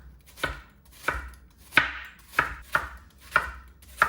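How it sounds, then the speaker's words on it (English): A knife chops through half an onion on a cutting board, cutting thin julienne strips in seven crisp, evenly spaced strokes, close and clear with no talking. "We're going to cut this half onion into thin strips, also known as a julienne."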